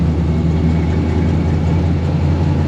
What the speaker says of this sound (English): Sounds like the front tires are scrubbing pretty bad.